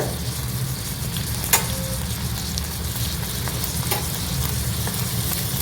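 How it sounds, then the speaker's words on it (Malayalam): Washed rice fries in hot ghee for ghee rice, giving a steady, close sizzle with a faint crackle throughout and a single light clink of the pan partway through. "ഇത് ഇങ്ങനെ നമ്മൾ ഫ്രൈ ചെയ്യുമ്പം ഒരു ചെറിയ സൗണ്ട് വരുന്ന"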